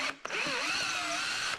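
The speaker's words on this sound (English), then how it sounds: "I'm using the drill because they were a little bit more obnoxious to remove" A power drill removing screws whirs in one short burst, starting with a brief rev and holding a steady high whine for over a second.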